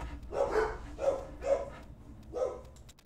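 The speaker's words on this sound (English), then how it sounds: "Shut up, dog!" A dog barks four times in an uneven rhythm, each bark fairly close and moderately loud, with short pauses between them.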